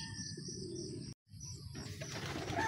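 Racing pigeons coo softly at the loft in low, rolling murmurs, fairly quiet and close, with a brief gap partway through and faint higher chirps and rustling afterward.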